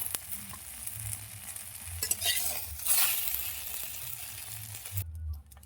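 Food frying and being stirred in a pan, a continuous sizzle with scraping of a utensil and a few clinks, moderately close, building briefly before cutting off near the end.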